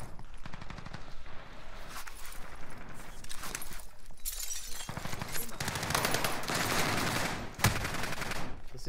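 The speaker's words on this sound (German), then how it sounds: "Das ist nur eine Täuschungsgranate" A decoy grenade in the Call of Duty Warzone mode on Rebirth Island fakes gunfire, giving long bursts of rapid, loud machine-gun-like rattling that run almost the whole time, with voices in the game chat mixed in.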